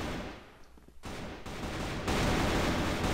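Sustained bursts of automatic gunfire from an AK-47 Super Dragon in a video game on the Rocha map, dense rapid shots growing louder and continuous after a brief lull, with no voices.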